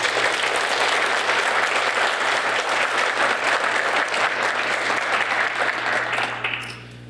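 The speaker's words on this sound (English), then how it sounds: "Please give them a round of applause." Sustained round of applause from an audience at an oath of office ceremony, dense steady clapping for about six seconds before tapering off at the end, with a low hum underneath.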